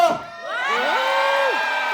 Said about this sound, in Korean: 얼마나 재밌게 보셨는지 함성으로 답해주세요